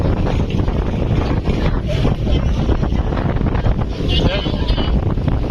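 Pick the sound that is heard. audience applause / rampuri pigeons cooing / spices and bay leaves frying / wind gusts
wind gusts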